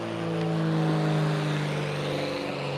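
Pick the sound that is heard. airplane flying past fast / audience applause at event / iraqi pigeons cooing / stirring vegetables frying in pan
airplane flying past fast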